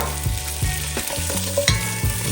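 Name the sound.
andouille sausage frying and being stirred in a pot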